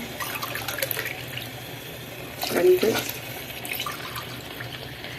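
Water being poured into a pot of soaked rice while soya biryani is made, a short splashing pour standing out briefly over a steady low kitchen hum, with someone speaking around it.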